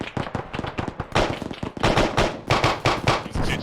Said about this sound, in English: Fuck, shots fired.